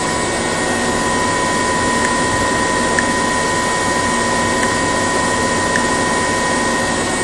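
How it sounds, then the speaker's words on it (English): An alternator runs at reduced RPM on a test rig for a lithium direct-charge test, a loud, steady, broadband whirring hum with a faint whine and no pauses. "that's just by dropping the RPM of the alternator"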